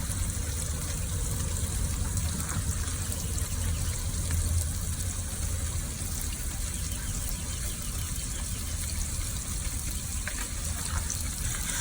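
Water rinsing soap off a western saddle, a steady loud rush of running water spraying and splashing on leather, continuous and close with no talk.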